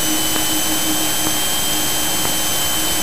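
Small training airplane's piston engine at about 20 inches of manifold pressure in flight, a loud, steady droning hum with a constant high whine and no talk.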